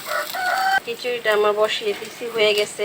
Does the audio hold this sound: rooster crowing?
yes